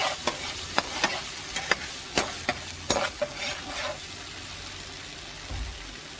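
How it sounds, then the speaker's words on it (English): Tomato paste and tomato sauce are stirred together for spaghetti and meatballs sauce, with a spoon knocking and scraping the pot in scattered close taps over a steady low sizzle. "Now we're going to mix our tomato paste and our tomato sauce."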